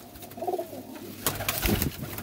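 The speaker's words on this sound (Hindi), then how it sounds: "और बड़े अच्छे प्रवाजी कबूतर हैं दोस्तों" Soft, low cooing of pigeons close by, a couple of rounded calls against a quiet outdoor background with light rustling.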